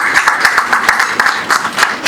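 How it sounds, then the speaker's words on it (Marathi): Loud clapping and applause from a crowd honoring Muslim brothers at a gathering, a dense rapid patter of hands throughout with occasional sharper bursts. "एकदा जोरदार टाळ्या झाल्या पाहिजे आपल्या मुस्लिम बांधवांचं"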